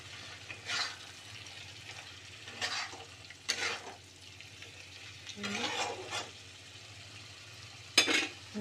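Shrimp kofta, shaped like pakora, frying in spiced oil in a pan, with soft hissing sizzle and several short bursts of stirring and scraping spread across the stretch, fairly quiet and close, no talk.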